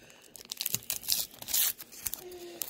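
A 1991 Donruss baseball card wax pack is torn open up close, with crinkling wrapper, ripping bursts and crackly paper sounds in uneven spurts.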